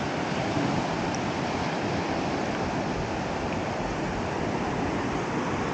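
Ocean waves washing onto a beach make a steady, loud, broadband roar of surf that holds evenly throughout, with no talking.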